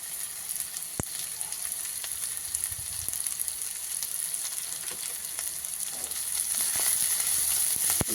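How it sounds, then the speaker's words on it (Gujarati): Capsicum and cabbage fry in a pan for Manchurian, with a continuous hissing sizzle broken by occasional sharp clicks of stirring that grows a little louder toward the end. "કેપ્સિકમ અને કોબીજ પણ આપણે એડ કરશું અંદર ફ્રાયમાં."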